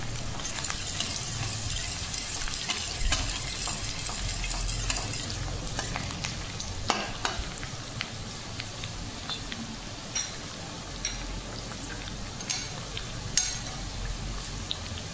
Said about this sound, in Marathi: त्यानंतर एका कढईत तेल ठेवून कांदा व्यवस्थित आपल्याला हलका ब्राऊन होईपर्यंत